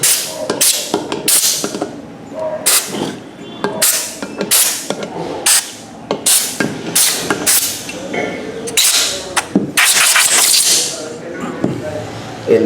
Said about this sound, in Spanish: donde se alojan los pernos vamos a poner aire